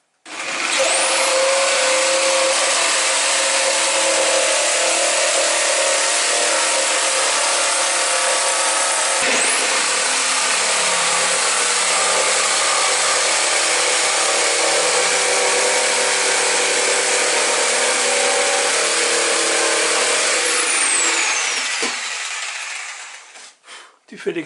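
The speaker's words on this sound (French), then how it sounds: "tu scies maintenant l'intérieur là." A power saw whines steadily through wood for about twenty seconds, loud and close, then winds down and stops, while cutting the hull of a toy boat.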